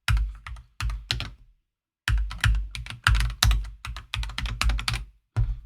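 Typing on a computer keyboard at close range, quick bursts of crisp key clicks with short pauses between runs and no voices.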